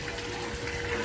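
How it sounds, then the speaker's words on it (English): An Intex LED waterfall runs into a backyard swimming pool, giving a continuous splashing, gushing wash of falling water at moderate level, steady and without voices. "We have bought this waterfall"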